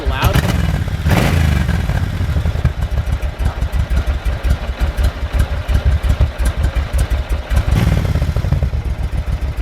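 Suzuki Intruder 1500 motorcycle on stock pipes idles with a loud, steady, rhythmic thumping pulse, close by, with a couple of brief louder bursts along the way.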